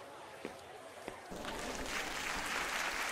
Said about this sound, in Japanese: 拍手の音が聞こえる